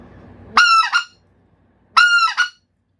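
Two sharp two-note goose honks from a handheld call, close and loud, separated by a brief pause.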